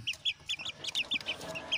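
A Basilan-breed chicken clucks in a quick, close run of about a dozen short, sharp notes at an even rhythm, with no talk over them.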